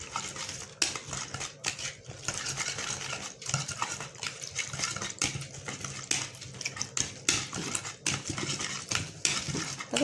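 Chopped ingredients for a simple tapioca and egg recipe are stirred and mixed in a bowl, giving a steady run of close scraping, clinking and rustling strokes in an irregular rhythm with no talk.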